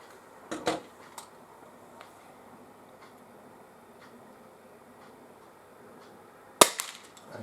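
An Umarex Buckmark Magnum spring air pistol fires once with a sharp, loud crack near the end, after a quieter metallic click and clunk earlier, over a faint background hum.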